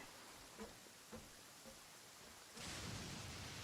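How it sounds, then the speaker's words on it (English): Soft, steady thunderstorm rain hisses faintly in Genshin Impact, broken by a few low dull thumps early on, then swells into a heavier, denser downpour for the last second. "It's raining, dude. You should really get inside. It's a thunderstorm."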